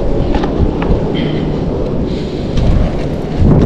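Heavy rain and gusting wind lash an outdoor cooking spot, a loud, continuous rushing roar with low rumbles swelling toward the end and no voices.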